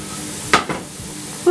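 Vegetables tossed in a hot pan give a short burst of sizzling and stirring, with a softer second sizzle after it and a brief clatter at the end.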